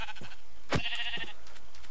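A sheep in Minecraft lets out a single wavering bleat, clear and close, with faint game sounds around it.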